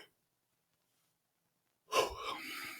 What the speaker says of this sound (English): you're getting to see me yawn at the end of an afternoon while recording